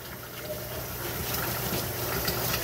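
Water runs steadily from a tap while canning jars are washed with soap and hot water, a continuous close gushing rush with no talk.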